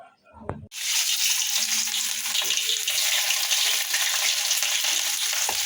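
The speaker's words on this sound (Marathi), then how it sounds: "हे बघा मी छान असा बारीक कांदा असा परतून घ्यायचा" Finely chopped onion sautés in a pan for aloo paratha, a sudden loud sizzle after a brief quiet start, then steady close frying with occasional stirring scrapes.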